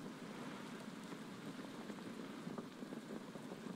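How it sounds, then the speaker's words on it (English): Rain falls in the survival video game Stranded Deep: a steady, dense hiss of drops spread evenly across the scene with no voices. "And it's raining, of course."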